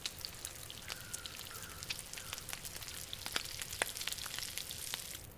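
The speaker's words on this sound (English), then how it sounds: "Now let's go over to cooking and cook our gamey venison." Gamey venison sizzling as it cooks in the survival game The Long Dark, a steady crackling fry dotted with sharp pops and brief ticks, moderately loud and alone with no talk.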